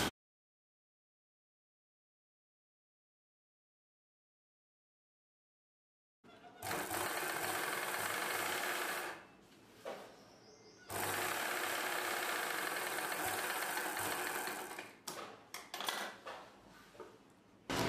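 Sewing machine stitching the edge of a saree petticoat, running in two long loud bursts with a brief pause between and a few short stops near the end, after six seconds of silence.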